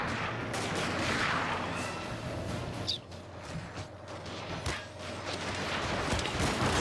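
Massed gunfire from infantry units firing in the Shogun 2: Fall of the Samurai strategy game, a dense, continuous crackle of volleys with sharp individual shots rising above the din.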